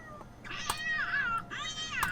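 A cat meows twice in The Sims 2 game, two drawn-out, wavering cries close and clear with a brief gap between them, with no talking over them.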